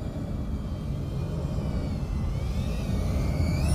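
FPV quadcopter racing drone on a full-throttle pass on a 3S lipo: a steady buzzing whine with rising and sweeping motor tones over a low rumble, fairly faint, no voices.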